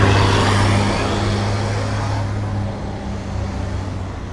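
Cars go by on a road close to the listener with a loud rush of tire and engine noise and a low steady hum. The sound swells at the start and then tapers gradually as the vehicles pass, with no talking.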